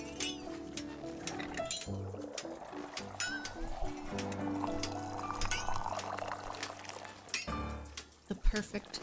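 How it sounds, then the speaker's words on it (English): Tea pours in the video game Wanderstop, a light liquid trickle with glassy clinks over a gentle game music bed and ambient bird chirps, while a person talks intermittently. "The perfect pour."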